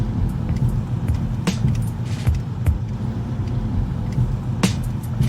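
Steady rumble of a car with a plain automatic transmission driving along, a continuous low road and engine drone with a few faint clicks and rattles from inside the cabin.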